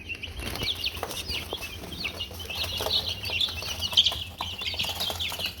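A flock of chickens clucks and chatters continuously nearby, with overlapping calls, occasional flapping, and a louder squawk near the end; no talking.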